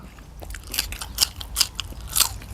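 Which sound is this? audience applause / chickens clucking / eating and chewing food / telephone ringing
eating and chewing food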